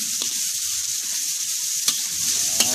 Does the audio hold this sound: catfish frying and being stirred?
yes